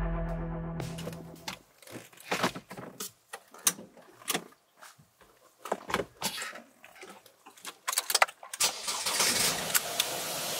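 A van engine cranks with a whirring starter, catches and fires, then runs through uneven revs with sharp bursts before settling into a steady, close running sound.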